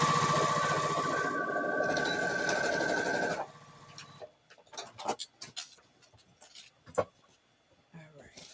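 A sewing machine, its foot pedal acting up, runs steadily for about three seconds, then stops, followed by scattered clicks and light handling noises of the machine and fabric.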